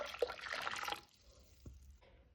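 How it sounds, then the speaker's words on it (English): Two cups of water poured into a pot for cornmeal porridge, a brief splashing pour that fades into faint trickles and drips, close and quiet. "Alright, we're going with 2 cups of water."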